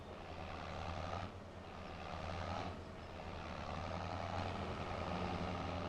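Farm truck in Farming Simulator 25 revving up, shifting gear and rolling off, a steady low engine drone with broadband roar that swells at each gear change, heard alone without talk.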